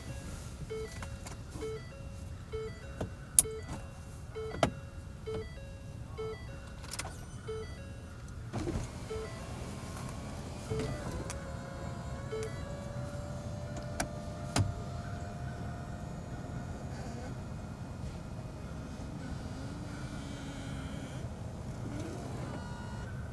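Electric convertible top of a 2010 Ford Mustang GT V-8 lowering: a steady motor whine with a rising tone, preceded by short clicks and chimes, in a quiet setting with no talk.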